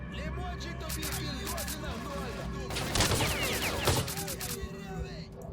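Bursts of gunfire crackle in S.T.A.L.K.E.R. gameplay, repeated volleys of shots, heaviest in the middle, under a player talking.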